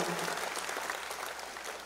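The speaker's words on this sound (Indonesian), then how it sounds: "untuk Indonesia kita tepuk tangan untuk negara kita" Brief, dense audience clapping at a national-unity stage event with religious leaders at an Indonesian pesantren, steady and even for under two seconds.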